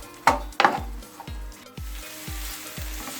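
Meat sizzles loudly in a hot pan as chopped onion and pepper are sautéed together, with several sharp bursts of frying followed by a steady crackle and repeated soft stirring scrapes.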